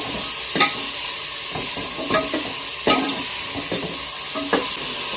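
Soaked ingredients fry in hot oil with onion and garlic, a constant hiss of sizzling broken by occasional scraping stirs of a spatula in the pan, close by with no speech.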